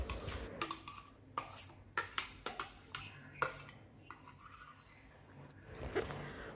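A utensil knocks and scrapes against a pot as ground coconut masala is added, giving a series of sharp clinks in an uneven rhythm, fairly close and clear, with a quieter pause before a final clatter.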